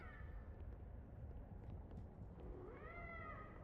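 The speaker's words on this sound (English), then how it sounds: "There's a cat at my door." A cat in the video game Life is Strange meows at the door, two drawn-out meows that are fairly faint over a steady background hum, with no talking.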